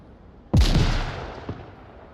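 A grenade bursts in the VR shooter Onward during a 5v5 competitive match, one sharp, loud blast that rumbles and fades over about a second, followed by a fainter thud.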